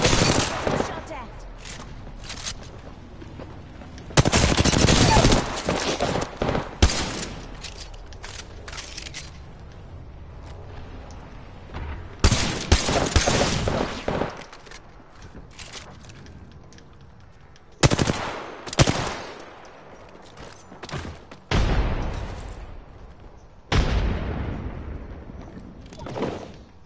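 Automatic gunfire in Apex Legends comes in sharp, loud bursts spread across the stretch, separated by quieter gaps of ambient game noise.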